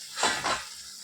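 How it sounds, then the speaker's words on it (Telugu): Millet flour fritters (sajja burelu) dropped into hot oil, two short bursts of crackling sizzle with faint utensil contact, settling into a quieter hiss. "నూనె బాగా వేడెక్కాక బూరలు నూనెలో వేయాలి"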